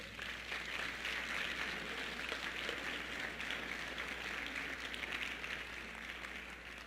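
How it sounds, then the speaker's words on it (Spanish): A church congregation applauds during a Spanish-language worship service, a steady, faint wash of many hands clapping together from start to finish with no voices. "Dense un aplauso, por favor."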